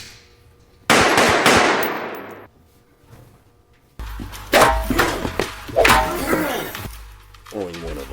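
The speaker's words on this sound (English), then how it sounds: "Darby heads straight to Walker's room and fires several shots" Several loud gunshots in a film scene, sharp blasts with ringing decay, a first shot then a rapid cluster of shots later, mixed with score and effects.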